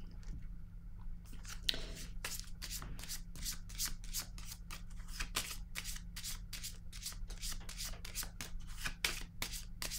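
Tarot cards are handled and shuffled close up, a quick run of crisp riffling flicks and soft slides repeating steadily and quietly over faint low background hum, with no talking.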